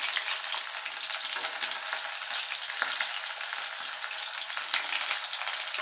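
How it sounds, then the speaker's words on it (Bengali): Small onion frying in hot oil seasoned with kalo jeera (nigella seeds), a loud, steady crackling sizzle that runs without pause, with faint scattered pops and no voices. "পেঁয়াজটাকে একটু ভাজা ভাজা করে"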